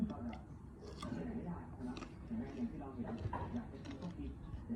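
Crunchy chewing of a fresh Barhi-type date fruit: repeated close bites and mastication, with someone talking over it.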